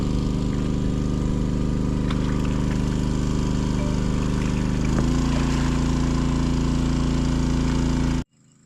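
A vehicle engine runs loud and close at a steady idle, steps up slightly in pitch midway as it is revved lightly, then cuts off abruptly.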